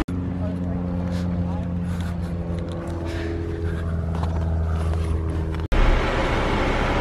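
A car travelling along a road on the way back to a bike park transition area in Truckee, with a steady engine and road rumble throughout that cuts off abruptly near the end into a different, noisier background.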